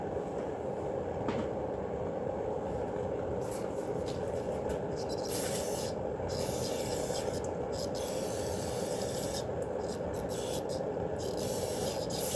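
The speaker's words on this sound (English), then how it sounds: "let me spray that off real quick" Water is sprayed steadily onto a Kubota tractor part, a constant loud hiss with scattered bursts of brighter spray noise, and no talk over it.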